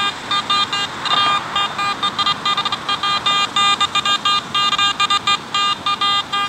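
A metal detector in all-metal mode, swept over a trashy park, gives rapid electronic beeping tones in irregular bursts, loud and close, chirping on and off continuously like a detector reacting to many targets.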